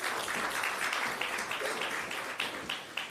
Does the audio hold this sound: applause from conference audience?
yes